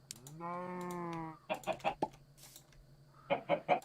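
Minecraft chickens cluck in short, rapid bursts within a blocky game world, with a pause between the two close, clear groups of calls. A held tonal game sound plays just before them.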